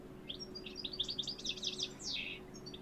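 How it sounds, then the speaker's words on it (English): Chirpy calls of an American goldfinch in Ohio, a run of quick bright twittering notes followed by a longer sweeping call, moderately close over a steady low background hum. "We got here the goldfinch."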